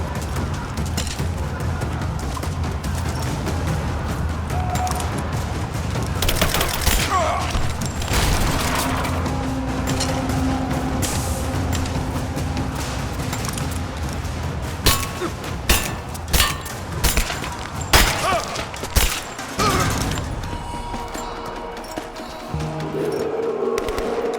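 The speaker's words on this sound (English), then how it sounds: "Grenade out. Fire in the hole." Combat in the video game Rise of the Tomb Raider: a grenade blast and bursts of gunfire, with heavy booms, crashes and rattling shots scattered through a dense, loud battle soundscape.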